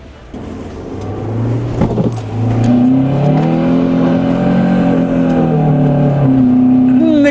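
A car engine revving hard while building momentum up a steep mountain track near Laspa in the Johar Valley, the note rising loud and close, then dipping and rising again as the strain holds.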